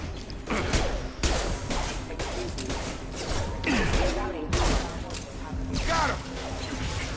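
Shotgun fire in the video game Mass Effect 2 during a firefight, heard as several loud, sharp blasts with clanking mechanical impacts and whooshes amid dense, noisy combat.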